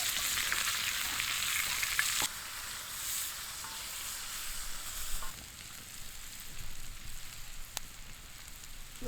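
Vegetables fry in bacon grease in a pan at a solo canoe campsite, giving a steady close crackling sizzle that runs the whole time, with a few stirring clicks and scrapes and no talking.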